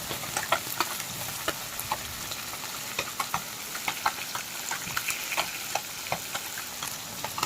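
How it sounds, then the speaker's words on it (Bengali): Tangra fish fry in hot oil in a pan, a steady close crackling sizzle dotted with sharp pops and spatters throughout. "মাছের এক পাশটা একটু ভাজা হয়ে এলে তারপর আমি মাছগুলো একটা একটা করে উল্টে দেবো"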